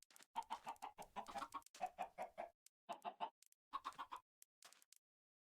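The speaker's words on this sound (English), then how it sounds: "Silly little chickens." Repeated chicken clucks in Minecraft 1.19, in quick bursts with short pauses between them, fairly close and clear, with no talking.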